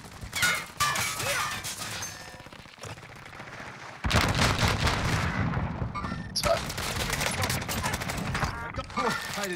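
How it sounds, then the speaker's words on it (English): Rapid gunfire bursts and crashing impacts from a firefight in Call of Duty Warzone Plunder mode, loud and dense, with a sharp break near four seconds before heavier shooting resumes; players talk over the action. "Is that a shotgun that he fired then?"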